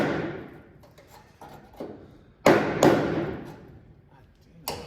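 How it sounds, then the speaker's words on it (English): A hammer bangs on a rusted Dodge car body panel, with a few light knocks followed by two loud, sharp blows and another strike at the end, each ringing briefly in a workshop. "When in doubt, bang it out."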